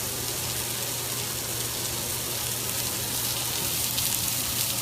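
Pork tenderloin sears in a very hot pan, giving a steady, close hiss and crackle of frying that holds evenly throughout with no talking.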